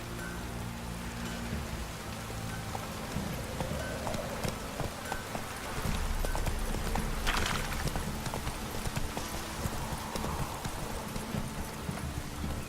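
The horse Roach's hooves clip-clop steadily on the ground in The Witcher 3, a continuous rhythmic patter under a rain-like ambient bed of game sound, fairly close.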